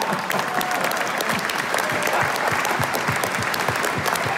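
A live audience at an electric car show event applauds loudly and continuously, dense, even clapping from a large crowd with no voices over it.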